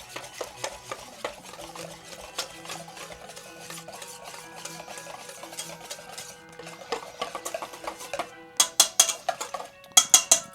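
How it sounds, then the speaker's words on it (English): Whisk or spoon stirring almond milk eggnog ingredients in a bowl, with steady close clinking and scraping against the bowl, ending in a few sharper metallic taps. "Now we're going to whisk this together."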